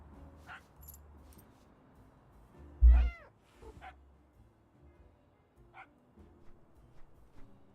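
A house cat lets out a short, loud meow rising and falling in pitch, close by, amid quiet room noise with a few faint thumps and jingles.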